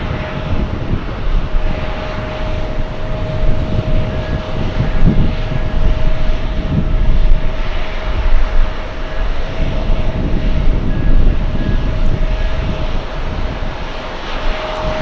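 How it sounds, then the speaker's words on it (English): Boeing 747 jet airliners, Etihad and Korean, taking off from runway 22 right at LAX, heard as a steady, loud broadband engine roar that swells and holds throughout, with a faint tonal whine over the rumble. "to see back-to-back takeoffs by King of the Skies in the next few minutes"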